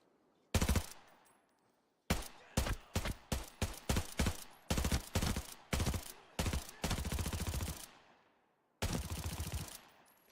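Drum-magazine weapon fire in the shooter Arena Breakout, loud close bursts of rapid automatic shots in repeated volleys with brief gaps, then a final long burst after a pause.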